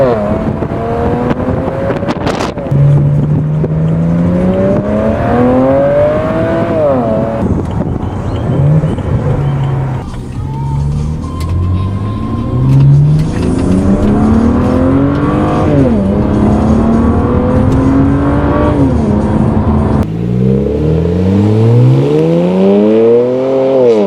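BMW 335i E93 convertible with its six-cylinder engine and the roof down, revving loudly up and down through the gears with rising and falling pitch sweeps, quick upshifts and downshifts, and wind buffeting, no talking.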